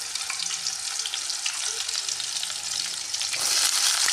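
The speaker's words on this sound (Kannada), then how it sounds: "ಚಲೋ ಹೊತ್ತಾಗ ಫ್ರೈ ಮಾಡ್ಕೊಬೇಕು ನೋಡಿರಿ" Green chilies and onion fry in hot oil, giving a steady, close, loud crackling sizzle with scattered pops that swells louder near the end, and no voices.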